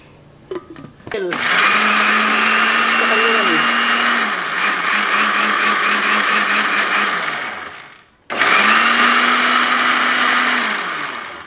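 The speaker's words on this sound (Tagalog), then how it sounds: "i-blender natin tong namuong dugo ng isda" A blender blending coagulated fish blood whirs loudly and steadily for several seconds, briefly stops, then starts up again; a short sound is heard before it kicks in.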